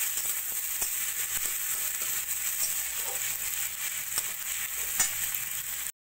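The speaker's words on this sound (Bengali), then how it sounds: "সেগুলো সব তেলের মধ্যে দিয়ে একটু ভাজা ভাজা করে নেব।" Chopped onion, green chilies, garlic and ginger frying in hot oil in a home kitchen, a continuous close sizzle with scattered small pops and crackles, fairly even in level until it cuts off at the end.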